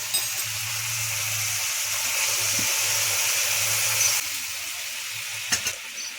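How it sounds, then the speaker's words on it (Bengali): Ginger, cumin, garlic and green and dried chili paste hits onions frying in a pan for a jackfruit-prawn curry, giving a steady loud sizzle with soft stirring scrapes and a couple of sharp clinks near the end. "পেঁয়াজ ভাজা হয়ে গেছে, এবার এখানে যে মশলাটা করে রেখেছিলাম আদা, জিরে, রসুন আর কাঁচা লঙ্কা, শুকনো লঙ্কা, এটা পেস্টটা এখন ঢেলে দিই"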